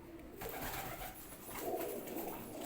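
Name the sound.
pigeon cooing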